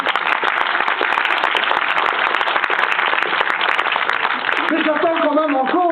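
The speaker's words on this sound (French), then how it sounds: "Je demanderai donc de vous applaudir vous-même." A cinema audience at Le Parc in Charleroi claps steadily for several seconds, a continuous close wash of hands, before a voice starts talking over the fading applause.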